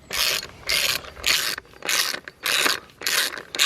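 A ratchet clicks in rapid repeated bursts, about seven strokes with short pauses between, while bolts are tightened during servicing of an Audi S3 with a misfire problem; close and clear, no talking.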